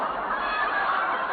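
A honking bird sound effect from a vintage radio drama blares as one sustained, loud, nasal honk over band-limited old-broadcast audio, with no talking.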